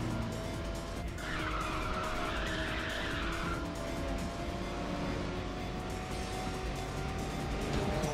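Race cars roar and skid with squealing tires in the video game Ridge Racer 6, a continuous loud engine drone with a burst of tire squeal near the start, no talking.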